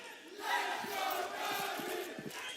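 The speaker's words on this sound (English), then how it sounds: "as we can hear from the crowd" A large esports arena crowd at a Counter-Strike match between NAVI and Vitality roars and chants continuously, loud and reverberant, with rhythmic surges throughout.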